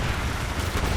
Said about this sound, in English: I heard a sniper?